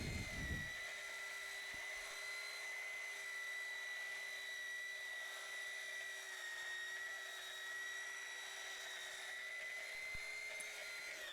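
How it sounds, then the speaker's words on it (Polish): A Parkside belt sander works on wood for a photovoltaic carport build, giving a steady, high motor whine with a constant tone that runs unbroken and alone throughout. "Użyję do tego szlifierki taśmowej Parkside z Lidla."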